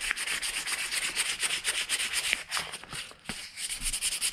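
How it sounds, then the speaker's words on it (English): Fine 1500-grit sandpaper is rubbed by hand over a rear axle shaft from an FJ40 to clear burrs and rust. It makes a soft, continuous hissing rasp with quick back-and-forth strokes, close and moderately quiet. "Just cleaning this up with 1500 grit, so really, really fine."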